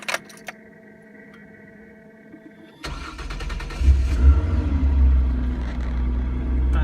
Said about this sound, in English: let's fire up the car